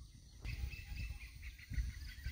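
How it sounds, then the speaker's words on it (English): Hornbill calls in Khao Yai forest, faint and distant, with a couple of brief honking bursts over a low, steady woodland background. "More hornbills in there."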